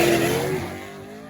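A drag-built streetcar engine revs hard at launch around 3,600 to 3,700 rpm, a loud short burst that fades quickly.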